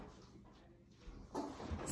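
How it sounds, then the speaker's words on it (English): Bedroom door closing, a short close thud and rattle near the end of a mostly quiet moment. "closing the bedroom door"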